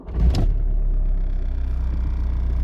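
A Golf TDI with a 6-speed gearbox and hard gearbox mount drives with a loud low engine drone and a pulsing vibration, after a brief clunk at the start; no talking.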